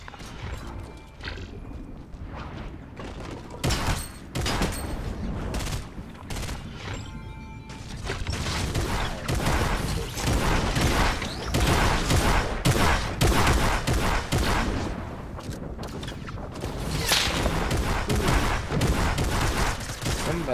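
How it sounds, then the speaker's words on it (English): Rapid gunfire and sniper shots from the video game Fortnite crack out in dense, loud bursts and scattered single reports, with sharp impacts throughout. "Somebody's sniping at me."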